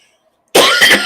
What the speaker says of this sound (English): I need to go because now I need to actually get something to clear this cough